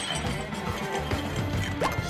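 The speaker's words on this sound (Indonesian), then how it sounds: "satu persatu barangnya rusak dan hancur tak karuan" Objects smashing and breaking in a SpongeBob SquarePants cartoon as Squidward's belongings are wrecked one by one, with loud, dense crashing and thudding impacts tumbling together in quick succession.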